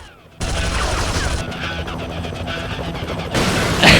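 Police gunfire in the PS1 Spider-Man game: a dense, continuous volley of rapid shots that cuts in abruptly and rattles on with sharp cracks over a low rumble, with a brief louder burst near the end.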